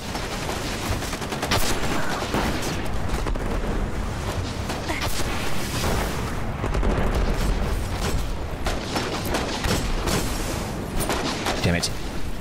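Dense, continuous gunfire and bursts of weapon fire from the video game Destiny: The Taken King, loud and sustained throughout with a player talking over it.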